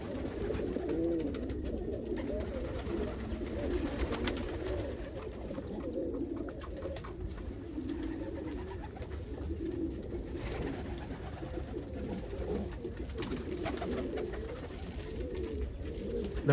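Domestic pigeons coo steadily inside a loft, a dense overlapping chorus of low, throaty calls rolling on without pause and no voices over it.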